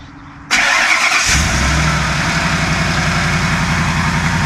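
A tractor engine cranks and catches after a moment of quiet, then settles into a loud, steady, rumbling idle with a rapid low chugging pulse, heard up close.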